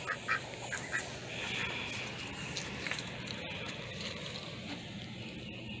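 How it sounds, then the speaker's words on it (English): Ducks just let out of their pen quack in short bursts, with a few louder calls early on. The flock chatters softly through the rest of the outdoor scene. "I just let the ducks out."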